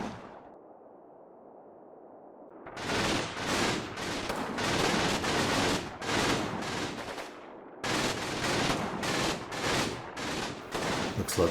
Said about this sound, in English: Good shooting, boys.